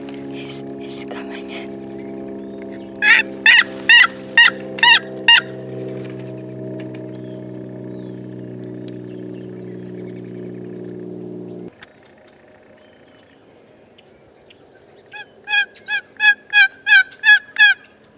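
Wild turkeys gobble in reply to calling from across a river in Colorado in spring, a run of about six gobbles early and another burst of six near the end, moderately loud amid quiet background and faint murmured voices.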